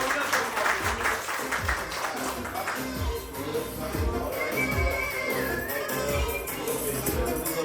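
Crowd applause at a 50th birthday jubilee celebration as a couple heads onto the dance floor: dense, sustained clapping that fills the room over a pulsing music beat, with voices mixed in.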